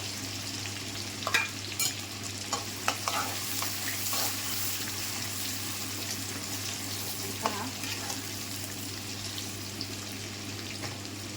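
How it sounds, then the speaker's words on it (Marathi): Finely chopped onion sizzles steadily in hot oil in a pan for dal tadka, a continuous close frying hiss with occasional scrapes and clinks of stirring. "आपला कांदा पण चांगला तळून घ्यायचा आहे"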